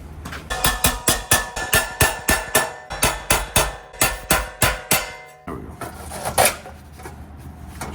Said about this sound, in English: Bend that with a hammer, just clean it up.